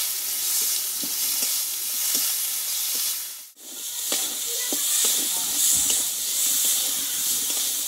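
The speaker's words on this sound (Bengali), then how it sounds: "এবার টমেটোটা ভালোভাবে কষিয়ে নেব আমি।" Tomatoes fry and sizzle in a pan while being stirred, a steady loud hiss with scraping stir strokes throughout and a brief dip near the middle.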